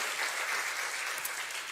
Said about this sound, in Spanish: denle un fuerte aplauso al Todopoderoso que nos enseña verdades